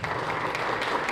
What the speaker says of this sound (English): let's have another round of applause for the panel.